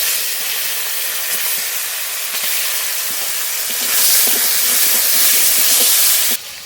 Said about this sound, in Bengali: একই তেলে বাকি মাছগুলো ভেজে নেব।